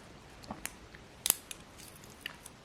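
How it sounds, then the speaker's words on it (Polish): Scissors on a Nerka Pentagon Protean multitool snip in a few quick, crisp cuts, faint close clicks with one sharper snip in the middle, in a quiet setting without talk. "ten tul ma dodatkowo nożyczki. I to bardzo fajne nożyczki, bo one są duże i naprawdę fajnie ciachają"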